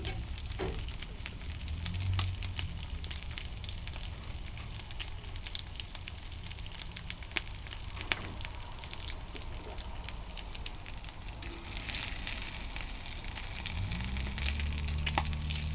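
Food sizzles and fries in a cast iron pan on a Coleman camp stove inside a Harbor Freight greenhouse, a quiet steady crackle with the faint roar of the burner flame beneath it.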